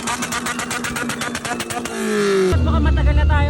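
A Honda car with an F20B engine revs with sharp exhaust pops and bangs, a rapid crackling burst giving way to a deep, loud sustained engine drone near the end, with people talking over it.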